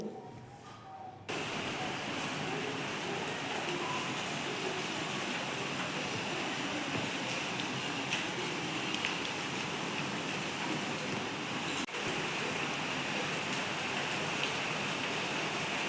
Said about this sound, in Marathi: बाहेर अजून पाऊस चालूच आहे